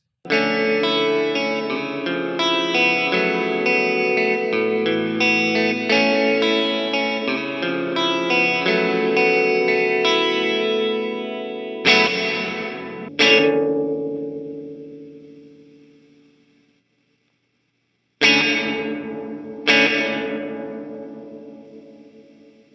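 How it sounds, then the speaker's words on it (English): Electric guitar chords ring out steadily through a reverb pedal with spacious reverb, then a few single strums trail off into long, fading tails with pauses between. "Reverb is what gives you that sense of space, like playing in a large room"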